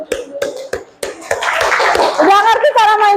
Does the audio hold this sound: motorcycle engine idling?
no